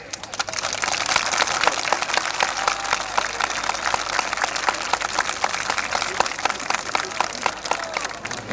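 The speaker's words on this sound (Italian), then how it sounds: "Il pubblico può applaudire." Outdoor crowd applause at a ribbon cutting for a football club's sports ground in Locara, with brisk, crackly clapping that stays steady and fairly close for over eight seconds.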